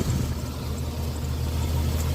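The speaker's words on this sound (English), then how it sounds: "I've got it idling in first gear, and the front wheel is moving" A Jeep Comanche engine idles steadily in first gear during a four-wheel-drive system overhaul, a low continuous rumble with a faint mechanical whir, heard close and without speech.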